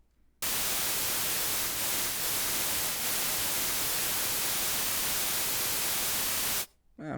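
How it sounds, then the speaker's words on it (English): Synthesized white noise generated in Bitwig, a steady, dense hiss that switches on abruptly, holds at constant loudness for about six seconds, then cuts off, with near silence before and after. "It's like white noise, right?"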